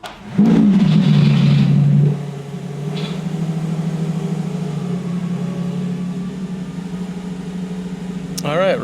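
Lamborghini Revuelto fitted with a Mansory body kit starting up, a loud engine burst that settles into a steady rumbling idle lasting several seconds, close by.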